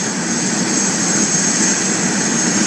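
A helicopter takes off at Hilo Airport, its turboprop engine giving a loud, continuous, steady roar with a high whine riding over it, close by.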